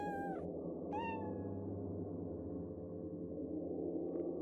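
Two short rising meows from a cat in the video game Dread Neighbor, close and clear, over a low steady hum, followed by quiet ambience.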